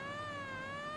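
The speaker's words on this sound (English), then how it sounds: "Sirens are out, not to arrest him, but just to announce the caution." A wailing siren announces a caution during a race at Nashville, a steady rising and falling tone rich in harmonics, loud and continuous over a low rumbling engine background.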